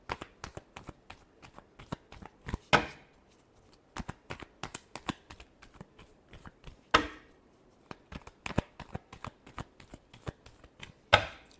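Tarot cards being shuffled in quick riffling bursts, with sharper snaps around a few points and soft handling clicks between, close and alone with no talking.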